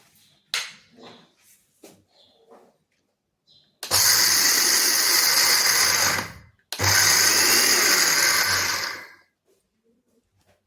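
A mixer grinder roars loudly in two long bursts of about two and a half seconds each, separated by a brief pause, after some quiet handling noises, grinding sattu ingredients finely.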